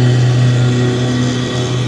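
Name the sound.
lawn tractor mowing grass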